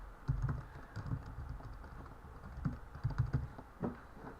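Fingers type a folder name on a computer keyboard, quick bursts of soft key clicks separated by short pauses, quiet and close with no one talking.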